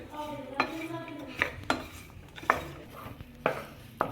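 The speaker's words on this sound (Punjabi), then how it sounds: "ਖੋਏ ਨੂੰ ਵੀ ਹੁਣ ਆਪਾਂ ਗਰਮ ਕਰ ਲੈਣਾ ਆ ਦੇਖੋ ਇਹਨੂੰ ਵੀ ਹੁਣ ਆਪਾਂ ਥੋੜਾ ਥੋੜਾ ਗਰਮ ਕਰ ਲੈਣੇ ਆ" Khoya being heated and stirred in a frying pan over a gas flame, with a metal spatula clinking and scraping against the pan in an irregular rhythm, close and moderately loud above a soft background hiss.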